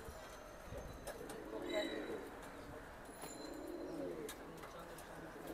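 Large pigeons, a male-and-female pair of fancy breeds such as giribaz, give low soft coos amid steady background noise and faint murmuring voices nearby.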